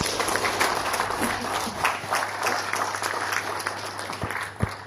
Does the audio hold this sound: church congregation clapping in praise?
yes